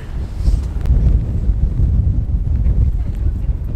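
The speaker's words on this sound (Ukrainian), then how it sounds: "тут дуже-дуже вітряно" Loud, steady wind on the Sky Walk cloud trail in Czechia buffets the microphone with a continuous low roar and gusts throughout.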